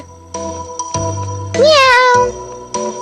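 A single drawn-out cat meow rises and falls over musical tones and a steady hum, close and clear.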